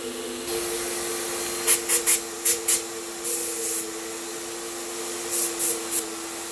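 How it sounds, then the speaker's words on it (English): A Graco 9.5 HVLP paint spray system hisses steadily throughout, broken by several short bursts of spraying in quick clusters, close and fairly loud. "Let's spray something."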